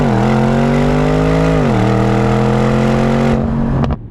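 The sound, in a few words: Bentley Bentayga Speed twin-turbo V8 SUV accelerating off the line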